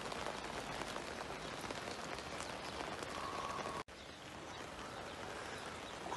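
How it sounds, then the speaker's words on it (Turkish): Steady rain hisses on surfaces, dense and even, briefly cutting out for an instant before continuing. "Deli gibi yağmur yağıyor."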